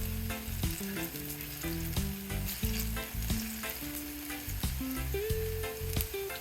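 Plantain fritters for a Jamaican recipe sizzle and crackle steadily in a pan over low heat, a close, continuous frying hiss under a layer of tonal background music, with no one talking.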